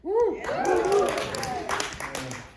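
Small improv audience at a live table read clapping, cheering and whooping together, with excited voices rising over scattered applause.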